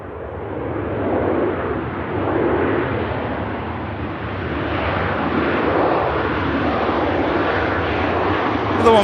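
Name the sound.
KLM Boeing 747 jet at Manchester Airport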